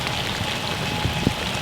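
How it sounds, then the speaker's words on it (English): Rain starting to fall outdoors during a windy thunderstorm afternoon on a turkey hunt, a steady close hiss of drops pattering on surfaces with a couple of louder nearby drips. "it's starting to rain now"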